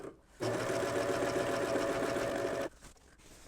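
Serger running a cover stitch along the bottom seam of an apron, one continuous motor burst of about two seconds with a steady buzzing hum, starting and stopping abruptly, close and alone.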